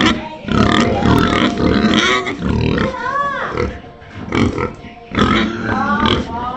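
Several fat pigs on a hobby farm grunting and oinking loudly up close, overlapping snorts and squeals in bursts with short gaps, amid general farmyard commotion.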